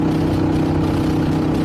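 A 2024 Harley-Davidson Pan America motorcycle fitted with a Toce exhaust idles close by, giving a steady, loud, low burbling drone with no talk over it.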